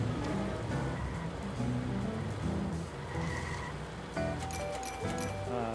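Steady rain patters continuously in the driving video game Does Not Commute, a dense hiss mixed with game music and tones throughout.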